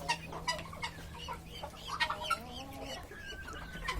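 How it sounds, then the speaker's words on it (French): Breeding hens on an African poultry farm cluck repeatedly in short, irregular calls, fairly close, with a steady low hum underneath and no talk. "Il y a deux poules en bas qui essaient de vouloir couver."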